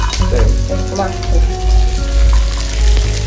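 A few garlic cloves dropped into a pan already frying cumin, potato and onion in a home kitchen, sizzling under clinks, a low hum and faint background voices.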